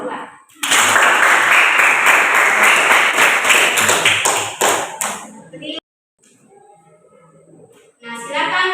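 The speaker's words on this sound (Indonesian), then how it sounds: "jadi kita berikan aplaus dulu jawaban dari kelompok 2" A classroom of students applauds an answer from a group, producing dense, close clapping for about five seconds that tails off into near silence. A few scattered taps and voices return at the very end.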